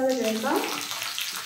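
An ingredient sizzles in hot oil for tempering in a Kerala-style raw mango pulissery. A brief voice is heard at the start, then a steady, close frying hiss continues.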